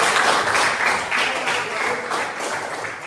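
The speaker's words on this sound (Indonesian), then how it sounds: "Ya, tepuk tangan untuk dua kelompok." Classroom applause for two student groups, a dense, steady wash of many hands clapping together for about three seconds at moderate loudness, with no one speaking over it.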